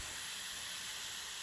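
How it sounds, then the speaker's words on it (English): Steam hisses steadily from a can cooker heating broccoli, a continuous broadband rush with no talk over it. "Right now I'm just starting to see a little steam at the come out"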